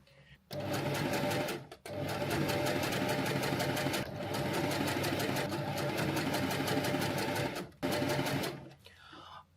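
Domestic sewing machine running a straight stitch on T-shirt fabric, a loud steady rapid whirring chatter in long continuous runs with brief pauses between bursts.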